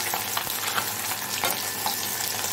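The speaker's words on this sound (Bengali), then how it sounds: "এই যেখানে পাকাল মাছ ভাজা হচ্ছে" Pakal fish frying in hot oil, a steady dense crackling sizzle with scattered sharper pops and occasional stirring clicks, close and fairly quiet with no voices.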